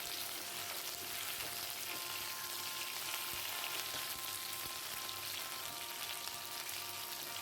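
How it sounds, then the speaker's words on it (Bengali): Boiled potato pieces frying in oil in a wok, a steady close sizzle with faint scraping as they are stirred, continuous and even throughout. "সেদ্ধ করে রাখা আলুর টুকরোগুলোকে এইভাবে 4-5 মিনিট কড়ায় নাড়াচাড়া করলেই আলুগুলো ভাজা হয়ে যাবে"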